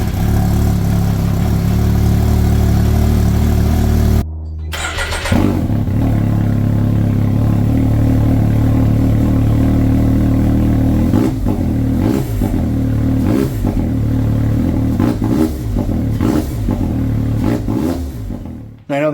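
A Can-Am X3 side-by-side with an RPM sport exhaust idles outdoors, then after a brief cut repeatedly revs in short loud blips, its deep raspy exhaust close and prominent throughout.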